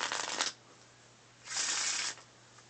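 Two bursts of a deck of playing cards being shuffled, a short riffle then a longer one separated by a pause, close and fairly crisp over a low steady hum.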